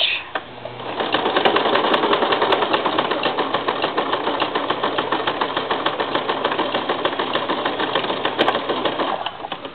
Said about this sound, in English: put your zigzag stitch on, and then I'll show you what it looks like